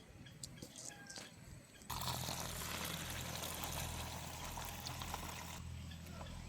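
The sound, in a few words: washing sesame seeds in water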